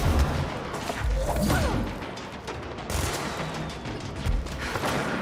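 Gunfire in the video game Control, a busy stretch of overlapping shots and mechanical clatter with heavier thumps, loud and continuous throughout.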